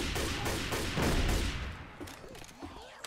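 Rapid bursts of gunfire from players shooting zombies in Left 4 Dead 2, loud and dense for the first second and a half, then fading into scattered softer shots and game noise.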